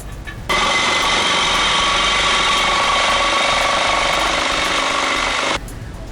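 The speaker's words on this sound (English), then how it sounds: "we're going to cut the factory pipe off at that mark." A power saw cuts steadily through the factory exhaust pipe on a 2009-10 Dodge Challenger SE 3.5L, a loud continuous whine and buzz lasting about five seconds before stopping abruptly.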